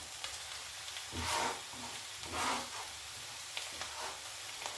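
Minced meat dropped into a pan of frying potatoes, carrots and onions, a steady sizzle with two louder hissing surges as the meat hits the hot oil.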